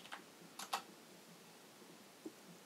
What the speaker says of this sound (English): So I'm gonna type bind off.